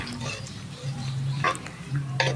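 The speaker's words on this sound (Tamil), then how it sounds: "வெங்காயம் போட்டு நல்லா வதக்கிக்குவோம்" Onions sautéing in a pan for a fish curry, with soft sizzling and repeated scraping and stirring of a utensil against the pan, close up.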